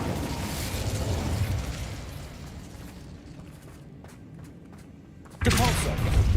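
Incendio fire spell cast in Hogwarts Legacy, a burst of roaring flame and thudding impacts over a loud game soundscape, quieting midway before a sudden loud whoosh near the end.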